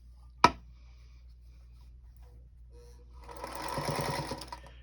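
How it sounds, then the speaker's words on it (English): A featherweight sewing machine stitches quilt pieces, a soft, rapid mechanical whir that starts after a sharp click and runs for about a second and a half, close and fairly quiet. "I love these little featherweight sewing machines."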